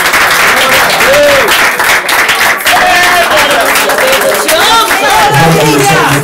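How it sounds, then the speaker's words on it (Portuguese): A church congregation claps together while a worship leader's voice and singing carry over the top, the applause loud and continuous throughout. "As palmas ao nome do Senhor, irmão."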